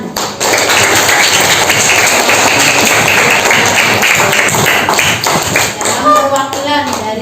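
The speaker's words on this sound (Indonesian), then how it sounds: "Tepuk tangan." A classroom of students applauds with dense, steady clapping that fills the room at close range, thinning slightly toward the end as voices come in.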